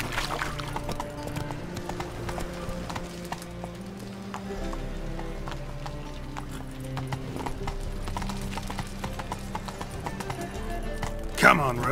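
Roach the horse trotting in The Witcher 3, steady clip-clopping hooves close by, with a brief whinny near the end. Game music plays quietly underneath, and there is some talking.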